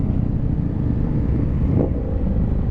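A close Indian motorcycle with an SC exhaust rumbles in a steady, deep note, with some wind buffeting the microphone and no voices.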